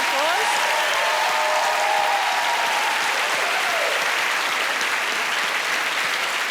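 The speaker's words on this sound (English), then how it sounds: "Give her a round of applause." A crowd applauds loudly and continuously, dense clapping filling the whole stretch, with a voice briefly heard over it early on.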